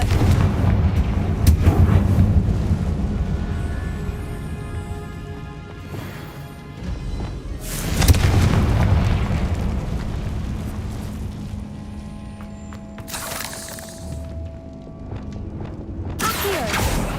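Fire-blast spell explosions from the Hogwarts Legacy video game: loud crashing bursts land about four times, with a strong blast near the middle, over steady rumbling game ambience.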